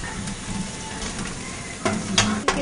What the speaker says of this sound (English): So I'm going to add the onions. You need to saute the onions well till they are nice and transparent.